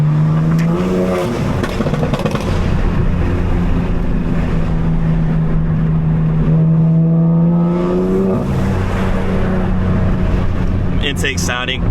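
A 750 hp BMW M4 revs hard on a night drive, its engine and intake roaring loud and close as pitch climbs, drops and climbs again, with brief voices in the car.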